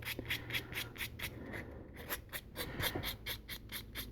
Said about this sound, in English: just taking this super fine sanding sponge and just kind of getting rid of that